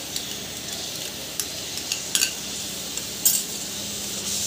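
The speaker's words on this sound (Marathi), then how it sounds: "आता यात जो मी ठेचा टेचून घेतला होता तो सगळा याच्यात मी टाकत आहे" Crushed green chilli thecha tipped into a pan with fried okra and stirred, giving a continuous sizzle with a few sharp utensil clinks against the metal, close and without talk.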